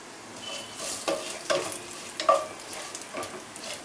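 Whole spices — cumin seeds, a cinnamon stick, cardamom pod, two cloves and a bay leaf — fry in hot oil and ghee, giving a steady close sizzle with a few sharper crackles and pops, no voices.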